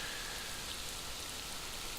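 Rain in the online fantasy game Mortal Online falls as a steady, even hiss of drops, constant and moderately quiet throughout with no voices.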